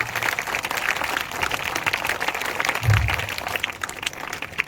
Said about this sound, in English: big round of applause for the class 6th students